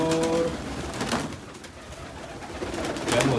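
Pigeons coo softly on an open farm, a few low rolling calls near the start and end over faint background noise.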